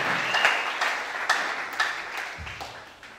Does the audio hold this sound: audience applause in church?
yes